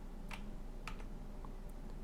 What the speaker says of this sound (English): I'm gonna double tap on tab